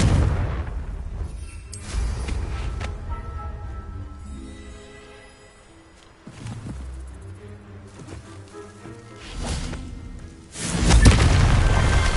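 A Confringo blasting spell explodes in a Harry Potter video game, with several deep booming blasts and rumbling tails, the loudest crashing burst near the end, set over a steady game soundscape.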